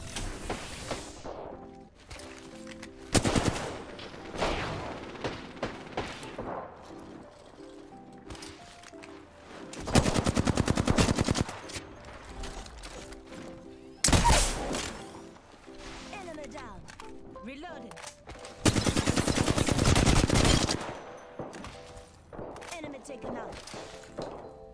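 LMG gunfire from the Apex Legends video game comes in several sustained automatic bursts, each a second or two long, loud against quieter game sounds, with someone talking in the gaps.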